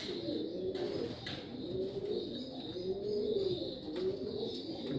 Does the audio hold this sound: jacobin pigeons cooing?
yes